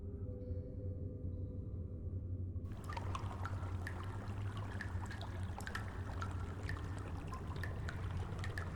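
Water runs through the sewers of Derry in the IT video game as a steady trickling stream with scattered drips. It starts muffled and then opens up brighter and fuller over a constant low hum, with no one speaking.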